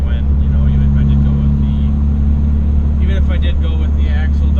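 A tuned third-generation Cummins diesel truck drones steadily with a low, even engine rumble throughout, and faint voices come through near the end.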